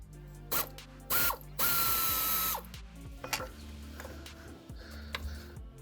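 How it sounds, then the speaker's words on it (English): A hand ratchet clicks while backing out a 10mm screw from the lower protective cover of an Alfa Romeo Giulietta or MiTo 1.4 engine bay, in several short, close bursts of rapid ratcheting separated by pauses. "Now I'm gonna remove this 10mm screw here to undo this bottom part of the protective cover."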